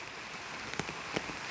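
Soft, steady morning rain hisses in the background, with a couple of sharper drip-like taps standing out briefly.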